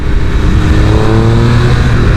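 A loud sport motorcycle engine close by accelerates with a rising, buzzy whine, pitch climbing steadily over a couple of seconds.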